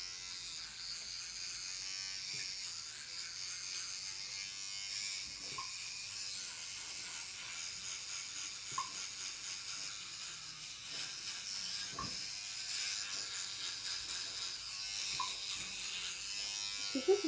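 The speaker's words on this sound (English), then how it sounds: "Let's get brushing." A Spider-Man electric toothbrush buzzes steadily for the whole stretch while someone brushes their teeth, a continuous close motor drone with small shifts in pitch and a few brief knocks as the head moves.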